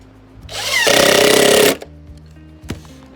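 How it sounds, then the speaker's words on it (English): A power drill whirs in one loud, continuous burst of just over a second, driving a self-tapping screw through a gutter guard panel into the gutter, followed by a short knock. "Put another screw in here just to hold it in place."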